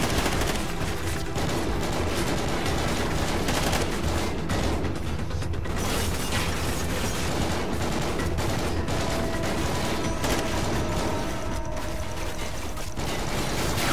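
Continuous bursts of automatic gunfire from the Call of Duty: Ghosts video game, loud and dense throughout with clattering mechanical detail and brief lulls, with no talk.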